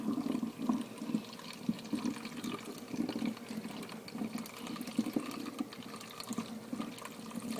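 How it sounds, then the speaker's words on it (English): Liquid is poured slowly into a bottle while making an elderberry tincture, producing a faint, continuous gurgling trickle with small fluctuating splashes close by. "Pour it in slowly and carefully so you're not dripping any of this on yourself"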